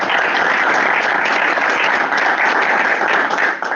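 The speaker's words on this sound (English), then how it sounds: "So a round of applause for the donors, please." Attendees at a monthly school board meeting give a steady round of applause for donors, a continuous moderate clapping from a roomful of people with no pauses.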